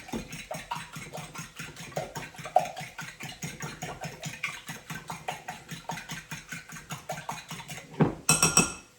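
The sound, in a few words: mixing salt and pepper into onion pie filling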